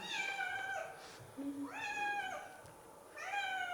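A cat meows several times, each call a clear, drawn-out wail with a rising then falling pitch, heard close and alone with no talking, in a quiet indoor space during a nighttime paranormal investigation.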